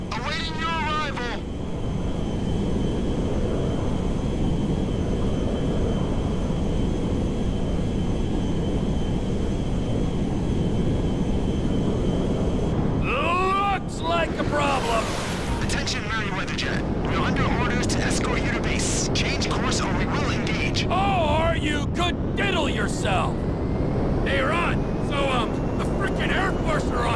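A jet flies in Grand Theft Auto V, its steady roar loud and continuous throughout, with bursts of radio chatter and shouting voices breaking in over the engine.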